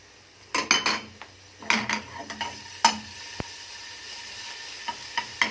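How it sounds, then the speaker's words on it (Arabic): A spoonful of garlic drops into a small amount of onion-flavored oil for koshari, giving clinks and scrapes of a spoon against the pot over a soft sizzle, several sharp taps followed by quieter stirring. "وهننزل بقى بالمعلقه بتاعه الثوم اللي كنا سايبينها للاخر"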